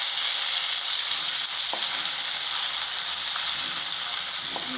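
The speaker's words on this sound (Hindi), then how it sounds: "लहसुन बारीक कटा हुआ है वो हम इसमें ऐड कर देंगे। हरी मिर्च डाल देंगे, ग्रेटेड अदरक डाल देंगे, जिंजर, और इसको अच्छे से सौते कर देंगे" Chopped garlic, green chili and grated ginger sauté in hot oil in a pan, a loud, even sizzle throughout with a couple of faint utensil taps.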